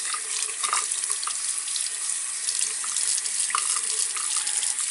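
Water runs steadily from a sink tap during handwashing, a close, continuous bright splashing hiss with small shifts in the flow as hands move under it.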